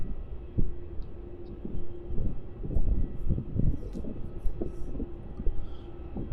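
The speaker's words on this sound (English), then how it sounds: "Enjoy this Scoot 787-9 rolling runway 16 for a departure out to Singapore, mate." A Scoot Boeing 787-9 jet rolling down runway 16 at Melbourne Airport on its takeoff run, a steady low engine rumble heard from a distance with faint bumps and fluctuations, no voices over it.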